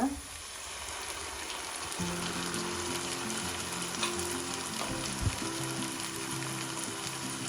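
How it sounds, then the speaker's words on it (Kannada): Ground masala paste fries in hot oil for a mushroom gravy. It makes a steady, dense sizzle that runs the whole time, with a low hum underneath and one or two soft stirring knocks. "ಇದನ್ನು ನೀಟಾಗಿ ಒಂದು 2 ನಿಮಿಷ ಫ್ರೈ ಮಾಡ್ಕೊಳ್ಳೋಣ ಇದರಲ್ಲಿ"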